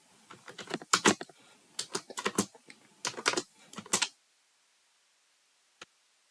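Typing a job title on a computer keyboard: rapid bursts of close, crisp key clicks in uneven clusters for about four seconds, then silence broken by one faint final tap.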